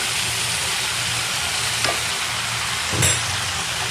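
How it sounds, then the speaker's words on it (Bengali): Steady oily sizzle as taro stolons and potatoes are stir-fried in a pan, with a couple of brief spatula scrapes rising over the constant frying hiss. "কষিয়ে নিচ্ছি, এখন লতি দিলাম"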